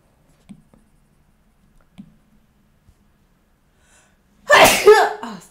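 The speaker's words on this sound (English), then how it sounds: "I think I sneezed" A loud, sudden sneeze right into a microphone near the end, after a few faint clicks and small handling taps in otherwise near silence.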